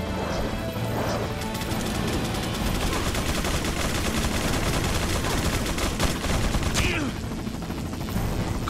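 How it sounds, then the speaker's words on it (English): Sniper rifle shots ring out in the Resident Evil 4 video game during its final chapter, with sharp reports set against a dense, loud, continuous wash of game action noise. "Sniper rifle."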